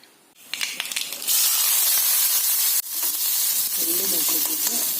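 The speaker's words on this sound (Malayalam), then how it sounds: "ഉള്ളി, മുളകും, കറിവേപ്പില അങ്ങനെ വറുത്തിടുന്നു." Onion, chili and curry leaves hit hot oil for a pumpkin and peas curry, bursting into a loud, steady sizzle after a brief quiet start, with a second surge of hissing partway through.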